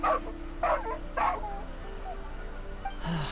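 A dog in the Genshin Impact video game gives a few short, whimpering barks and yips spaced over a few seconds, fairly close, with a soft tonal hum of game ambience underneath.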